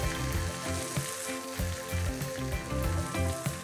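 Greens sizzle in a hot pan with dark and light soy sauce, a steady close crackle with soft stirring pulses at a low overall level and no speech.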